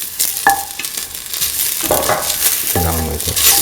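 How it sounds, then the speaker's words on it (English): Ginger and garlic sautéing in a pan, a loud close sizzle broken by scraping stirs and clattering utensil strokes. "sauteing the ginger and the garlic"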